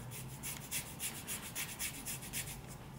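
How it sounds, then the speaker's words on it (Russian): A hand rubs back and forth along the rough carbon fibre shaft of a Minelab Manticore metal detector, a faint, close scratchy rasp in about a dozen quick regular strokes. "Вот она, карбоновая штанга. Она шершавая такая."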